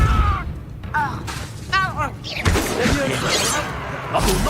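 Depulso force spell cast during a wizard duel in Hogwarts Legacy: a sharp burst and heavy thud amid dense, loud combat noise, with voices shouting spell incantations around it.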